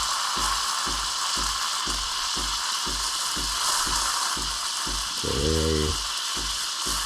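On a Ninja Luxe Cafe espresso machine, the steam wand froths milk with a steady hiss and a faint rhythmic ticking pulse, while a person briefly speaks partway through.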